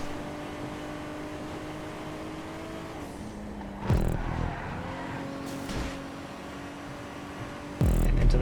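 Sedan race car engines in a GTA 5 racing event drone steadily and fairly loud, the pitch sagging and recovering midway, broken by abrupt loud bursts around the four-second mark and again near the end, with no talking.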